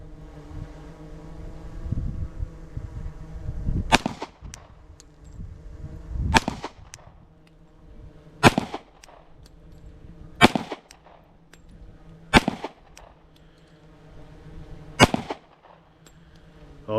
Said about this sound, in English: But let me shoot real quick.